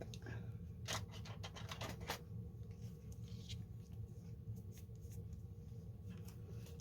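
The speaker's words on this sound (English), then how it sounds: "And snip." Scissors make a few quick crisp snips through paper while a junk journal is being made, with close, quiet scratchy cuts clustered early and softer rustling after.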